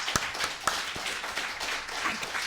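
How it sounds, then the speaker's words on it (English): A speaker at a domestic workers' report launch claps her hands several times, sharp close claps at an uneven rhythm over faint room noise. "I clap for myself"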